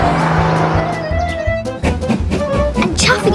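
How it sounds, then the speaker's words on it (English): A cartoon toy car zooms about with revving engine whines and tire-squeal effects. The bursts are loud and sit close, and a voice talks over part of it. "He loves zooming about in Jason's toy car."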